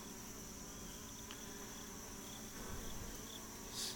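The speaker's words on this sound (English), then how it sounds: "let you watch how the bees are sort of working and doing their job" A faint, steady buzz of bees at a hive entrance drones throughout, soft and distant, with a few brief louder passes near the end.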